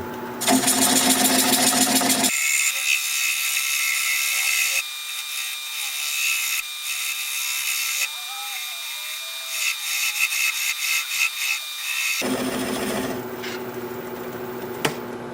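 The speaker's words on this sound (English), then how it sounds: "The lathe is spinning at 400 RPM." A wood lathe turns a bowl at 400 RPM while a 3/8 inch bowl gouge cuts, giving a steady scraping, whirring roar with brief drops and changes as the tool meets the wood.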